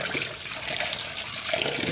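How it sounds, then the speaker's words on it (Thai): Tap water runs steadily as vegetables soaked in salt and vinegar are rinsed, a close, continuous hissing splash with no talking. "ล้างผักที่แช่ไว้จ้า ที่แช่น้ำเกลือกับน้ำส้มสายชูตัวน้ำไหลทิ้งไปพักนึงแล้วนะจ้า"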